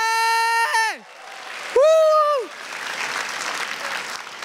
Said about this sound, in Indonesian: Tepuk tangan dong buat Balai Sarbende!